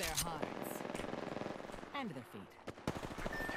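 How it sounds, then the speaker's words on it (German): Rapid automatic gunfire crackles in Apex Legends, a fast rattling burst followed by a few more scattered shots, with players talking over it. "Shots fired at me."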